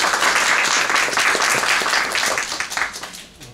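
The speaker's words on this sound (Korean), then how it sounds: "나게노상을 박수로 맞이하겠습니다." A crowd at a Sony DMP-Z1 and IER-Z1R launch event applauds to welcome a Sony engineer, with dense, loud clapping that holds steady and then thins and fades toward the end.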